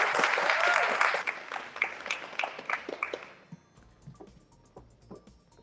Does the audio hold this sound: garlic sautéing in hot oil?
no